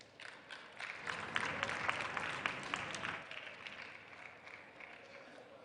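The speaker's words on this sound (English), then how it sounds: "Another round of applause." Audience applause at a keynote at the National Women's Summit & Expo 2023 rises and swells, dense clapping mixed with crowd noise and some voices, then gradually thins toward the end.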